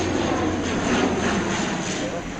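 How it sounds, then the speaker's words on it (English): Airplane passing overhead on the flight path to Belfast, a loud, steady broadband engine roar filling the whole moment, with voices talking over it. "All right, so the plane just come over?"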